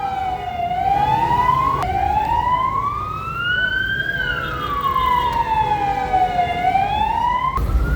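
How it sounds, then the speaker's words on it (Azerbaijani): An ambulance siren wails loud and near as it pushes through congested road traffic, with slow rising and falling sweeps repeating over a low hum of engines. "Təcili yardım getdi köməyə."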